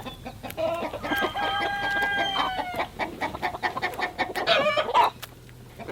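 Several chickens being fed Japanese beetles cluck and squawk close by, one drawn-out crowing call rising above a busy background of pecking and scattered clucks.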